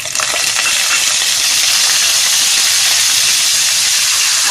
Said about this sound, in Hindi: अब इसमें हम कड़ी पत्ता डालेंगे।